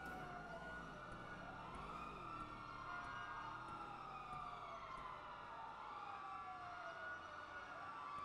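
Emergency vehicle sirens from a roleplay video game wail continuously, several overlapping tones rising and falling for the whole stretch at steady loudness, with no talk over them.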